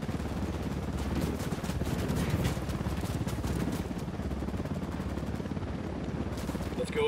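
Rhythmic rotor chop of a helicopter in the video game Ghost Recon Wildlands, a fairly steady beating drone at moderate level amid game ambience.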